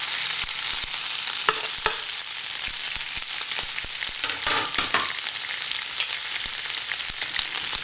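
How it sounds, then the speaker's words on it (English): Potatoes fry in a preheated pan of oil with a dense, steady sizzle and crackle, punctuated by sharp pops and light stirring scrapes, close up with no talking. "You can hear they're starting to fry right away because we preheated the pan."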